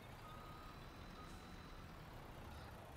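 A truck reversing in Farming Simulator 22, giving off faint, steady high-pitched beeps over a low engine rumble, with no talking.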